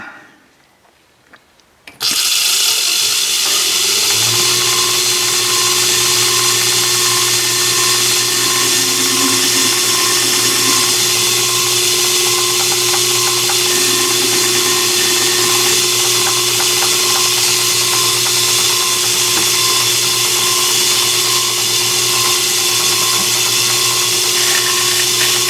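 A Myford ML7 lathe cutting a chamfer on a dial gives a loud, steady, continuous whir with a sustained tonal hum once the machine starts after a couple of seconds of near silence.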